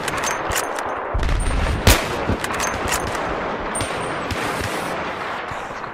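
Rapid gunfire rattles in the multiplayer video game Battlefield 3, with several bursts and a louder crack near the middle over constant battle noise.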